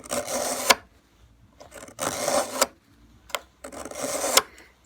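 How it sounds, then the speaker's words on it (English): Ice auger blades being sharpened with a hand file, heard as three loud, raspy strokes with short taps and pauses between them, close up and without talk. "You can hear that it's sharpening."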